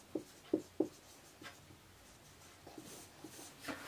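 Pen writing out a Class 10 circles maths solution, with a few quick scratchy strokes at the start and softer faint scribbles after, close and quiet with no talking.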